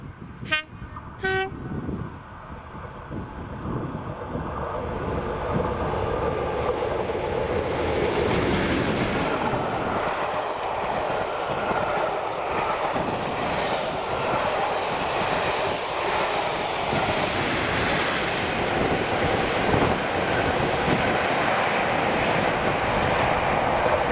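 Two Class 37 diesel locomotives, 37516 and 37403, top and tail on a train in Ayrshire, Scotland: a sharp horn blast opens, then a growling diesel rumble builds and holds as the train passes, with wheel clatter.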